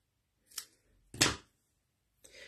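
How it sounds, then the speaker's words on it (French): Small scissors snip through 3D foam pads in three short, crisp cuts, close up and alone in a quiet room. "Je prends mes petits ciseaux pour découper mes petites mousses 3D."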